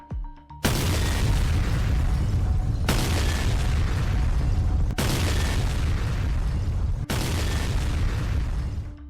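Four heavy, booming explosions of destroyed military equipment, including a tank and an ammunition depot, each striking suddenly and leaving a long rumbling roar that continues until the next blast, loud and close.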